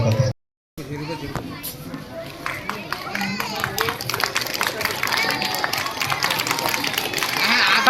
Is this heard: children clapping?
yes